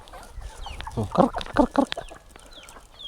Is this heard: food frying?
no